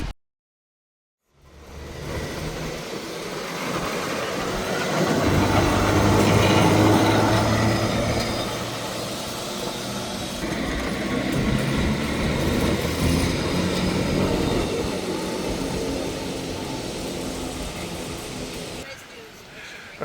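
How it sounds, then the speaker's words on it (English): Heritage train at Fort Edmonton Park, a long rumbling run of rail noise that swells and settles after a quiet start, with voices talking over it. "Let's try to hop on that train before it leaves"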